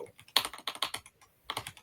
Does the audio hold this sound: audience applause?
no